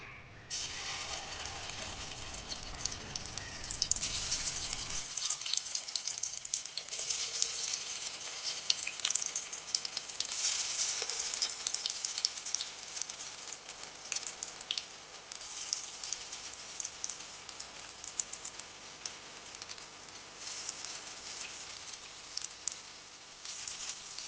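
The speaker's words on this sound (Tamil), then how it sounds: "எண்ணெய் கொஞ்சம் நல்லா கொதித்ததுக்கு பிறகு நம்ம செய்து வச்சிருக்கிற இந்த வடையை பொரித்து எடுத்துக்கலாம்" Cassava vadai deep-frying in hot oil, a steady bright sizzle with crackling and bubbling that settles into a continuous fizz throughout, fairly quiet.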